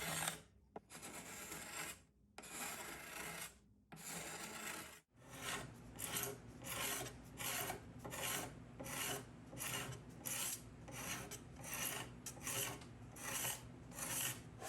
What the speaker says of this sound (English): When it was dry, I used a card scraper to scrape it level with the top and the front edge.